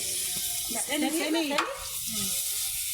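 Onions frying in hot oil, heard as a close, continuous sizzle with stirring, while a voice briefly talks over it.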